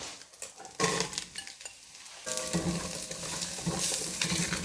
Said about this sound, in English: I just want to add my mushrooms and brown those real quick